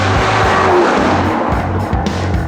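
Porsche Cayman race car in a Cannonball Run event, a loud, close engine roar filling the whole stretch with rough, steady revving and sharp changes in pitch, tire noise mixed in.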